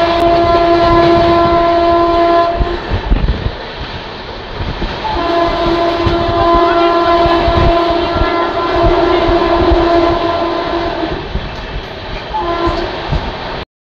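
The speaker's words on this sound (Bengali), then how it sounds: "কল্যাণীতে ঢুকছে ট্রেন, কিন্তু থামবে না" Sealdah–Jalpaiguri express train 13115 racing at about 109 km/h toward the Kalyani level crossing without stopping, its horn sounding in long, loud blasts with a short break in between, over a steady rumble of wheels and wagons.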